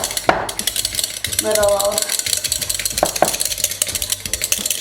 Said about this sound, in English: I want to whisk, whisk, whisk, whisk, whisk, whisk, whisk until we get all of